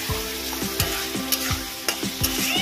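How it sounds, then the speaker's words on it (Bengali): Onion juice poured into a spice masala frying in a pan for Bengali chital fish muitha, with a loud steady sizzle and repeated scraping stirs at a regular rhythm, close by, with no voices. "আমি যে পেঁয়াজের রসটা রেখেছিলাম সেই পেঁয়াজের রসটা দিয়ে দেবো।"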